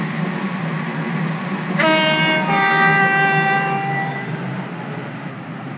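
A train arriving at a station, a steady low rumble of rolling stock under a loud tonal horn or whistle blast that sounds for about two seconds midway and then fades as the rumble continues.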